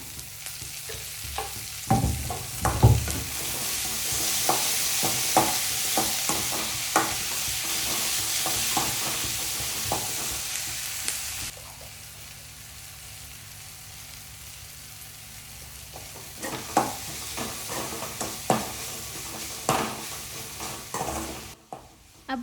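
Chopped onions sizzle steadily in a hot pan while a spoon stirs them, with irregular scraping knocks against the pan over continuous frying hiss, close and moderate, no talking.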